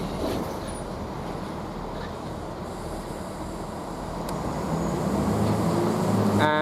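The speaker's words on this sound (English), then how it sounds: "we've got a Great Western Railway now actually departing" Great Western Railway train departing a station at Basingstoke, a steady broadband rumble of engine and wheels that swells slightly toward the end, with a brief squeal at the close.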